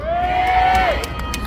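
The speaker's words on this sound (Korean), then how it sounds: "함성 소리가 조금 짠 것 같은데" Festival crowd at an outdoor tomato festival cheering and shouting in a steady, wide wash, with a sustained whistle or whoop rising above the noise for about a second before the crowd carries on.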